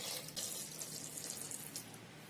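Steady stream of water poured onto washed corn kernels in a pressure cooker, a continuous soft splashing rush heard up close for a couple of seconds.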